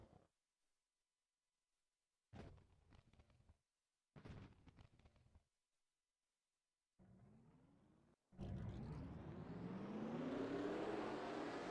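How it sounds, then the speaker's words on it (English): Race car engines in a racing video game crank over in short separate bursts, then one after another catch and roar into a rising, sustained rev, loud and close. "Drivers, start your engines!"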